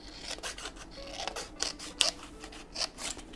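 Scissors snipping around paper ephemera pieces at a craft table: a series of short, close, crisp cuts at an uneven pace, with soft paper rustling between them.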